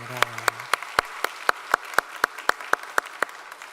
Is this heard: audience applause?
yes